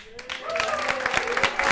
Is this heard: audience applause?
yes